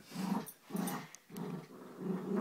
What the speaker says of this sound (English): They're both growling.